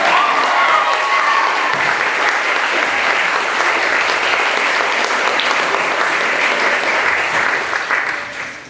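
An audience claps at a certificate ceremony, with dense, steady applause filling the room at full strength before tapering off slightly at the very end.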